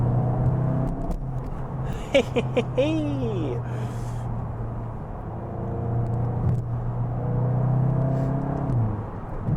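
Inside a 2025 VW Golf GTI Clubsport driven briskly on country roads, a steady low engine drone and road roar fill the cabin, rising and shifting in pitch as it accelerates, with a person speaking briefly over it.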